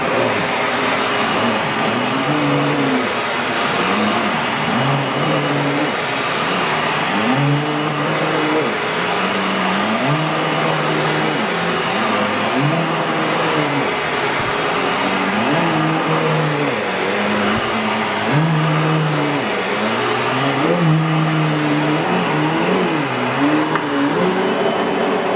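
Dirt Devil Breeze vacuum cleaner running continuously, a loud close whine with a steady high tone, its pitch dipping and rising repeatedly as it is pushed back and forth.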